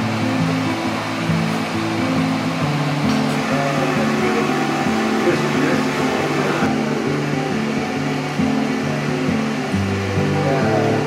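A machine grinds soaked soybeans in a steady, loud, continuous drone with a layered low hum that stays constant throughout, with no talking.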